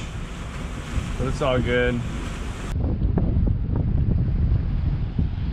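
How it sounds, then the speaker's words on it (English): Strong 20-knot wind rushes and buffets the microphone on a sailboat on a beam reach, with surf and hull noise beneath it and someone speaking briefly partway through. "We have 20 knots of wind."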